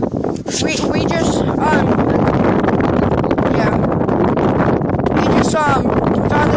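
Strong wind roars steadily against the microphone outdoors, with people talking and shouting faintly underneath throughout.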